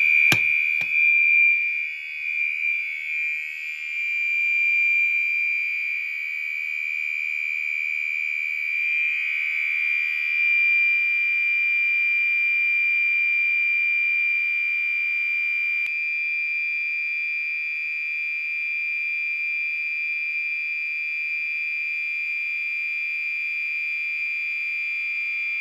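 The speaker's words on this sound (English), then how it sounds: "I'm going to go ahead and pull the FCI pull station" A Fire-Lite MS-4424B fire alarm panel, set off from an FCI pull station, sounds one loud, unbroken electronic tone that holds steady for the whole stretch.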